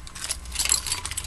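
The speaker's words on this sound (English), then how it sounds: "Then I have my keys, house keys, car keys, garage keys," A bunch of house, car, garage, mailbox and freezer keys jangles from a handbag, a close, continuous metallic rattle with no voices.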